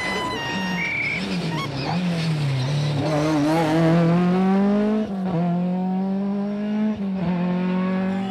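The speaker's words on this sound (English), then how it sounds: "Gary Midwinter brings his Escort home in 5th place" Ford Escort rally car on a stage at the 1997 Wexford Stages Rally, a loud close engine revving and climbing through gears with rising and falling pitch, with brief tyre squeals and gear-change dips.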